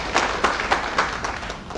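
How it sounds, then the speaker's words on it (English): An audience at a dinner event for educators applauds, a steady patter of claps with several louder hits standing out, fairly close and without talk. "Please clap for that."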